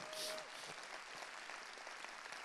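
Audience applause at the Archangel Summit in Toronto, a standing ovation with a dense, steady wash of clapping that holds at an even level for the whole stretch, with no distinct voices breaking through.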